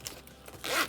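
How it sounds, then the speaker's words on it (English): A double zipper with silver-tone hardware on a nylon bag gives a single quick, soft zip near the end of a quiet moment, close up. "You do have silver tone hardware, meaning the double zipper."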